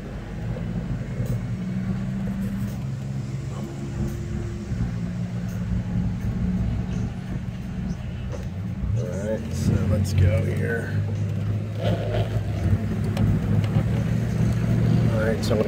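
A 1995 Ford Mustang GT engine hums steadily while driving, a continuous low rumble with occasional revving as someone talks over it.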